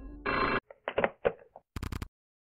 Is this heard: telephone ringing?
yes